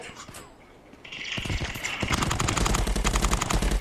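Rapid full-auto gunfire from a VR shooter game, a dense close burst of shots firing in quick succession after a brief quieter lead-in.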